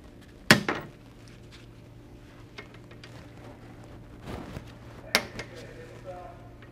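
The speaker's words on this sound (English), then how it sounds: "we'll use our wire cutters to cut the excess wire on each belt end" Wire cutters snip excess wire from a Flexco XP staple hinged belt fastener, two sharp metallic snaps several seconds apart with faint handling clatter between, close and otherwise quiet.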